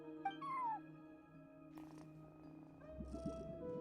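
A cat meows in a video game hotel lobby, a single rising-falling meow near the start, followed by quieter chirps and a soft purring rumble over steady background music in Genshin Impact.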